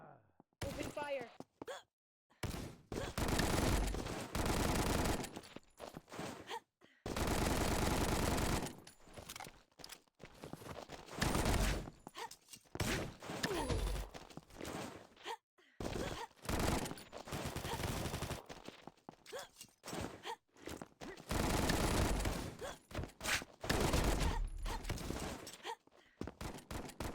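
Heavy video game gunfire in a deathmatch, long bursts of rapid automatic fire alternating with short pauses and single shots, loud and close, with brief shouted voices in the gaps.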